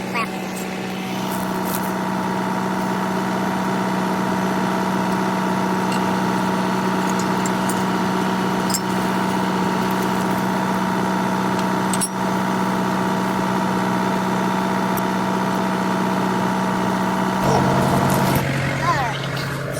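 A tractor engine idles steadily and close by for the whole stretch, a constant mid-low drone with a slight shift near the end.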